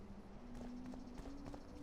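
Wild horses walk near a back garden, their hooves making soft, faint clip-clops over a low steady background hum.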